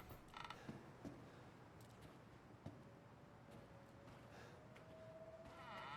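A slow mechanical creak of a door being shut in the horror video game Resident Evil Village, heard over a steady low background hum, with a few faint ticks and a thin sustained tone toward the end.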